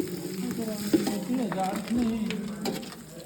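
Spices and onion fry in a pot, a moderate sizzle with scraping stirs and clinks of a utensil, while people talk over the cooking.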